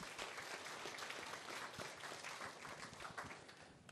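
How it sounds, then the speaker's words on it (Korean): Loud, sustained applause from a large crowd at a Buddhist memorial service, dense clapping that holds steady throughout and tapers slightly at the end. "큰 박수 부탁드립니다."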